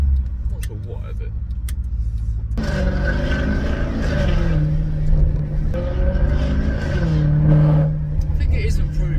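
Maserati GranTurismo S exhaust revs up and holds a throaty drone, burbling as it falls back, loud and close, with someone talking over parts of it.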